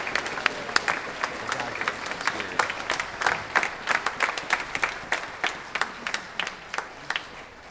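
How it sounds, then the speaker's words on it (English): Applause at a high school band concert honoring a retiring director, a broad crowd of clapping with sharp individual claps popping out in a fairly regular rhythm, held at moderate level for several seconds. "we owe him a round of applause and a congratulations on his retirement"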